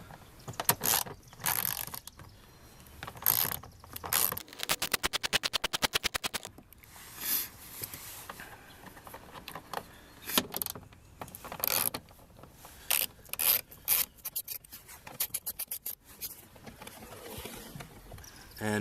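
A ratchet wrench loosens two 10mm bolts on a Buick LeSabre during front grille and headlight work. Close, irregular bursts of rapid clicking alternate with short pauses and metallic handling noises.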